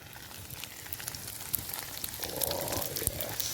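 Quiet sizzling and crackling of food cooking over a woodland campfire during wild camping in Scotland, soft and close, swelling slightly toward the end.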